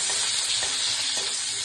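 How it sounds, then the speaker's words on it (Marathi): Garlic sizzles steadily in hot oil in a home kitchen pan, a close, continuous bright hiss with faint crackles and no speech. "लसूण चांगला फ्राय करायचा."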